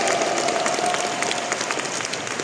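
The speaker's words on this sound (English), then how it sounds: "Can we all give boss a round of applause today?" An audience applauds a woman training to become a professional skydiver, a brief burst of steady, moderately loud clapping that tapers slightly toward the end.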